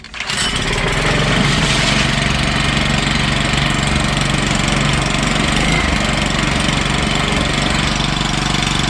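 A Hangkai 6HP four-stroke outboard motor starts up and settles into a loud, steady running drone that holds unbroken close by, with no talk over it.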